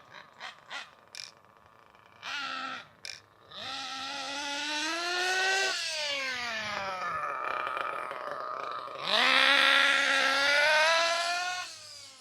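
A Losi 8ight RTR nitro RC car engine, still being broken in, buzzes with short blips and then longer rising revs on partial throttle, its whine climbing and falling in pitch close by.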